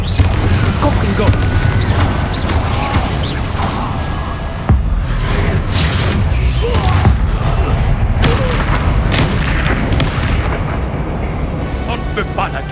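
Spell explosions in the video game Hogwarts Legacy, with dense rolling booms and whooshing blasts that continue without a break amid loud battle noise, while voices shout over them.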